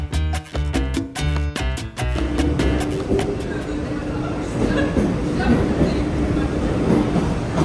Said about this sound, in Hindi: अपनी ट्रेन 2 मिनट में आ रहा है